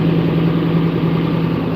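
An old tractor engine runs at a steady idle close by, a loud, continuous low drone with an even rumble and no change in pace throughout.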